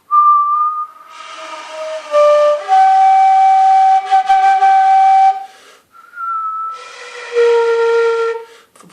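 A person whistles slowly to show the mouth shape used for playing a wind instrument. The clear tones are held and gliding, in two phrases with a short pause between them. They are near and loud, with no talk.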